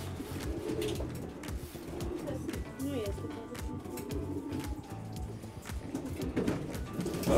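Pigeons coo softly in a breeding loft during an autumn selection of birds, with repeated low calls and wing and cage rustling throughout. A voice talks quietly underneath.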